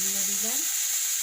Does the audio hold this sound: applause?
no